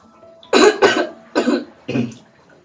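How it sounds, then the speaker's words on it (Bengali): Four harsh coughs in a smoke-filled room where food is being cooked, two close together, then two more spaced out, loud and near with no talk. "ঘরটাতে কাশি হচ্ছে ভীষণ"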